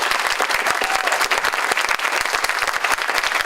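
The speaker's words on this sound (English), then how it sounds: "Let's give all of our candidates a round of applause." Audience applause for House candidates at a political forum in West Virginia, steady dense clapping from a crowd filling the whole stretch, loud and close with no talking over it.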